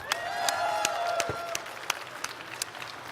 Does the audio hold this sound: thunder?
no